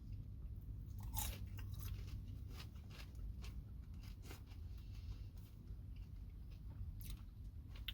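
Someone eats cold KFC fries up close, making soft, irregular crunching bites and chewing that stay quiet and sit alone without any talk.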